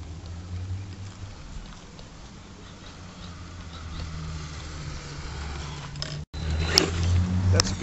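An HSP Brontosaurus Pro Top Edition RC truck makes its speed run, a continuous electric motor whine with rumbling tyre noise at moderate distance, surging louder in the final seconds.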